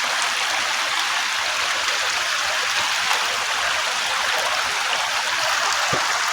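Floodwater rushes in a steady, broadband wash, continuous and fairly close, with no voices over it.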